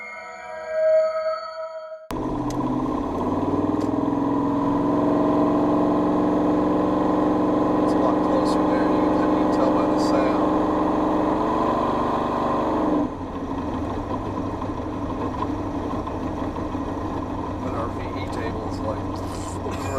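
An LS7 V8 engine in a Chevrolet S10 idles with a steady low rumble close by, then drops to a rougher, quieter idle partway through; someone talks over it.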